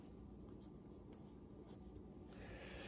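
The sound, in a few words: pencil drawing a cartoon outline on paper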